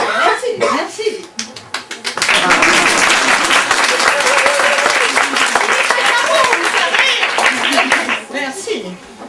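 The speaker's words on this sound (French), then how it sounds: "Merci pour les applaudissements." Applause from a theatre audience swells into a loud, dense wave of clapping that holds steady for several seconds. Speech and a chuckle come before it and carry on underneath.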